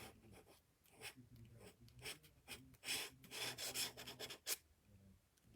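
A bone folder rubs and pushes across paper cardstock during card making, giving soft, close scraping strokes in an uneven rhythm, with a sharper swipe near the end and no talking.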